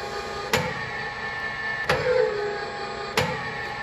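Individual pumps running on an E-Pro G dispensing system, a steady mechanical whir and hum punctuated by three sharp clacks at regular intervals, close and moderately loud, no talk.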